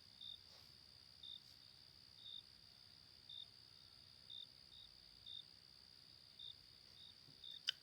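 A cricket chirps at night in the distance, faint short trills repeating about once a second in an even rhythm over a quiet background hiss.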